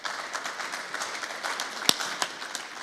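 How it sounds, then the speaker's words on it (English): A round of applause at a media lecture event, a steady wash of clapping from an audience that goes on throughout, moderately loud, with one sharper transient partway through and no talking. "Please help me give him a round of applause"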